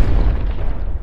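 Massive explosion of a dinosaur island in a Jurassic World: Fallen Kingdom film trailer, a loud, deep booming blast that rolls on as a sustained low rumble, heard alone.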